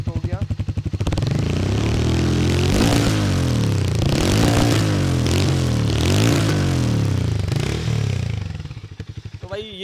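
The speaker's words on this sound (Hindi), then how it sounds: "ये थी कुछ इसकी साउंड तो अच्छी है भाई, हार्ले डेविडसन जानी इसीलिए जाती है" Harley-Davidson X440 motorcycle engine idling, then revved repeatedly in loud throaty bursts that rise and fall over several seconds before dropping back to a lumpy idle, close to the listener.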